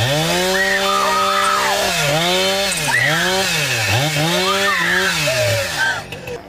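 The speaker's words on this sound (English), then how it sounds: "Nothing like a chainsaw coming at you in 3D." Chainsaw on a horror film set, heard as a loud, continuous engine whine whose pitch rises and falls in repeated revving swells before dropping off at the end.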